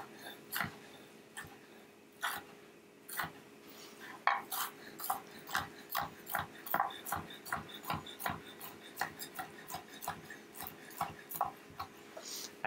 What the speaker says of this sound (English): we're just gonna coarsely chop our bacon